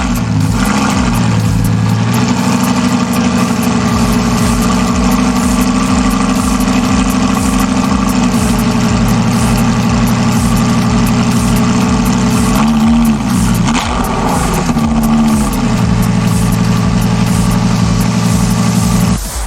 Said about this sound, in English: and it's a pretty cool sounding engine too.